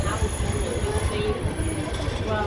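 A Walt Disney World ride train rolls along with a steady, loud rumble and a faint high whine from the wheels, continuous throughout.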